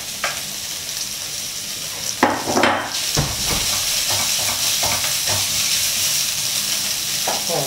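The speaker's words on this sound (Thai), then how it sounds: "เราจะใส่ชะโป๊ะลงไปผัดก่อนนะครับ" Preserved radish (chai po) stir-fries in a hot pan, giving a loud continuous sizzle broken by a few clattering utensil strokes and scrapes, close and without talk.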